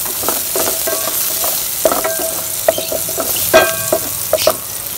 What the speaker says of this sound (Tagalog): Igisa lang natin yung ige ng ating bawang at sibuyas.